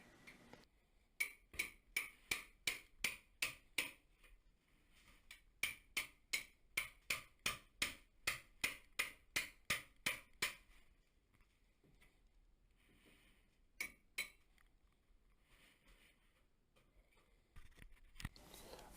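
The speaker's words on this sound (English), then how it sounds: "I'll just break out my cat's claw and hammer and just kind of chip it out of there" Rapid, evenly spaced metal taps of a hammer striking a cat's claw pry tool, chipping water-damaged drywall from a ceiling, followed by a few scattered knocks and a pause.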